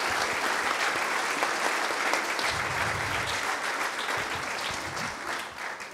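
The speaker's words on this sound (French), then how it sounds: "On peut raccompagner par des applaudissements Hélène et Cyril." An audience at a company jubilee celebration at a flour mill bursts into dense, sustained applause, loud and continuous, with a few faint voices mixed in underneath.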